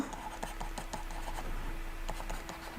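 Pen or chalk writing out a math expression by hand, a steady run of soft scratchy strokes with short pauses between them, close and fairly quiet, with no talking.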